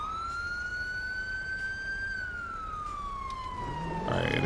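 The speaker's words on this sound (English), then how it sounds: "Why they got this siren on like that?" Police car siren in the GTA 5 video game, a steady wailing tone sweeping slowly up then down, loud and continuous, with a burst of other game noise near the end.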